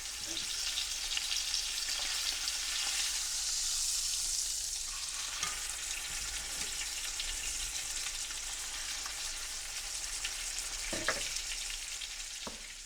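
A chuck roast browns in butter in a skillet, giving a loud, continuous close-up sizzle and crackle that swells and settles with occasional small pops, with no talking.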